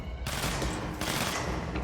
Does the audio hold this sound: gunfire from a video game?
yes